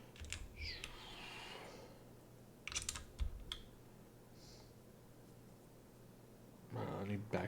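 Keys on a computer keyboard clatter in short bursts with a few backspace presses, quiet and close, separated by pauses and a low background hum.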